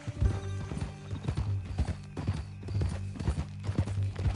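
Horse hooves clip-clop at a steady walking rhythm in Red Dead Redemption 2, close and clear over a low tonal background, with a faint whinny-like note mixed in.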